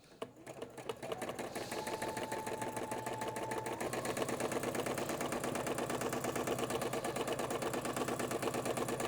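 Sewing machine stitching fabric for a Citrus Sayings table mat, running steadily and close with a fast even needle rhythm for nearly the whole stretch, no talk over it.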